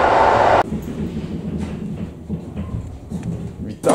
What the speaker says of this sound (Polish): Podjeżdża nam skład regionalny, wsiadamy i jedziemy